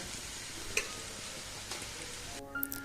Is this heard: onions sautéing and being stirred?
yes